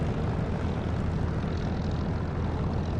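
Propeller aircraft engine idling at low RPM while taxiing in the DCS flight simulator, a steady, loud, droning rumble that holds constant throughout with no talk.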